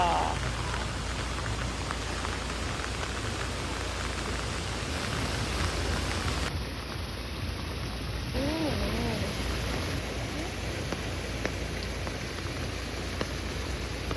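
Heavy rain pours steadily in a village near Mangalore as a dense, constant hiss, with a faint voice briefly audible partway through.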